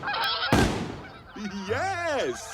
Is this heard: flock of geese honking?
yes